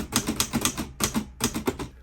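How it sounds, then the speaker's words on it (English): A mechanical typewriter clacks nearby in quick, uneven bursts of sharp key strikes, grouped in short runs with brief pauses between them, and no voices. "I love the sound of a clacking typewriter."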